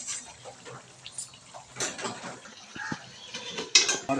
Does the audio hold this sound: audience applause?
no